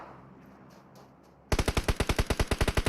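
Rapid automatic gunfire in PUBG Mobile bursts in after a quiet stretch, a loud, close string of about fifteen evenly spaced shots firing without pause.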